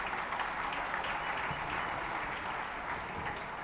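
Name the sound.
applause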